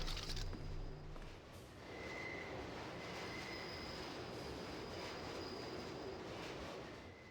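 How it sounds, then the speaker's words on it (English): Subway-style train in the Deus Ex video game, a low rumbling roll with faint metallic squeals and tones riding over it, fairly quiet and steady with no talk. "As soon as I open the train doors, I need you to be ready to run on board."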